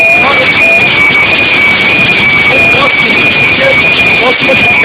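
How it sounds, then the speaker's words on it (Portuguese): A house alarm sounding a steady, piercing high tone without pause, very loud and clipped, over the roar of a heavy hailstorm with hailstones crashing into the house. "Alarme não para de tocar"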